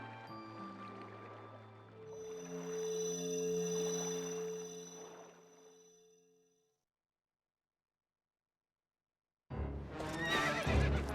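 A horse in Zelda: Twilight Princess HD lets out a loud, drawn-out whinny with snorting. A few seconds of silence follow, then a burst of hooves and game noise.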